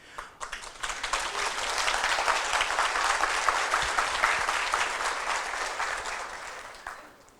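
Sustained audience applause at a spiritual congress, dense clapping swelling within the first second, holding steady and loud, then tapering off near the end.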